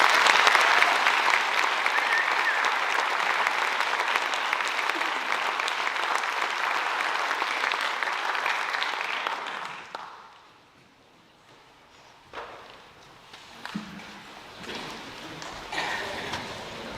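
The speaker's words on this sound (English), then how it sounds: "Let's give these students a round of applause." An audience at a high school senior awards night claps loudly and steadily for about ten seconds, then fades into the quiet murmur and scattered shuffling of the room.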